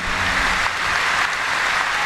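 Dense, steady applause from a large audience at an Islamic sholawat gathering at a university fills the whole moment, loud and continuous without a break.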